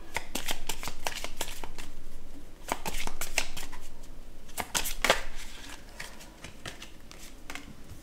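Tarot cards being shuffled for a reading, a steady run of crisp riffling and flicking snaps close by, with brief pauses and a softer stretch toward the end.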